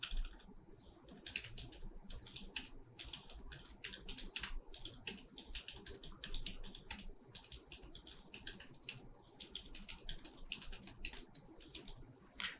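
Steady typing on a computer keyboard, bursts of quick clicking keystrokes at close range running throughout, alone with no talk.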